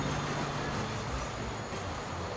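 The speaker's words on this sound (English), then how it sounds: "Let's just pick this guy over here, which is the construction material train." A construction material train runs in the Transport Fever video game, giving a faint, steady rolling rumble of wagons on track, continuous and without talk.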